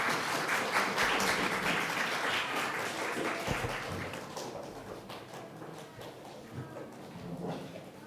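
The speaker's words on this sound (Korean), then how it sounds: "우리 어린이 친구들 나올 때 큰 박수로 환영해 주시기 바랍니다." A church congregation applauds during a Sunday worship service to welcome a children's English camp group coming forward, a dense, sustained wash of clapping from many hands that starts loud and slowly thins out over several seconds, with no talking.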